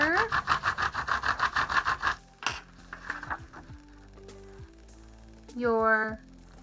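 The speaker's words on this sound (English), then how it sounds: "So you're just going to lay your crayon flat and rub over." A crayon laid flat is rubbed over a homemade texture plate with wavy lines, giving a quick run of close, rhythmic scratchy strokes, then scattered softer scrapes and a brief louder burst near the end.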